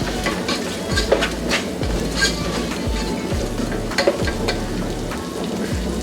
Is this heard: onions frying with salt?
yes